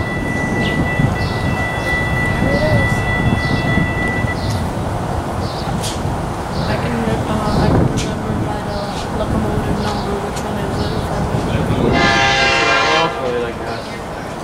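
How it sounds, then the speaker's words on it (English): A passenger train in southeastern Florida rumbles past with a steady low roar, a drawn-out horn sounding early on and a brighter screech of wheels near the end. "comes the final train"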